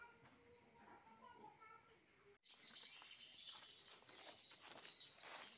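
Wild edible-nest swiftlets in a native mountain habitat call back to a played recording. Quiet tonal sounds give way after about two seconds to a loud, dense, continuous mass of high chirping and twittering.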